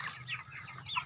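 Chickens clucking on a small backyard poultry farm: a brief, quiet burst of close clucks and short squawks, no voices.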